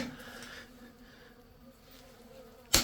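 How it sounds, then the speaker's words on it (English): Bees swarming close around a person during a killer bee rock challenge, giving a steady, dense buzz throughout that ends in a sudden loud rustle or thump. "I am covered in bees."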